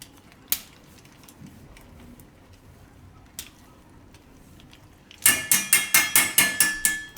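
Dark chocolate grated by hand for a Surti cold cocoa, with a few isolated knocks early on followed by a quick run of about eight rhythmic, rasping strokes, close and fairly loud.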